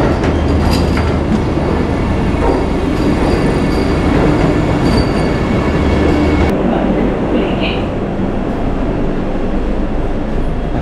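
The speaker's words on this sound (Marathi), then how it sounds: "प्लॅटफॉर्म नंबर 12 ट्रेन लागणार आहे. ती बघा, समोरून आली" A Vande Bharat Express pulls in alongside a station platform with a loud, steady rail rumble and high metallic wheel squeal, the roar easing slightly partway through as it slows.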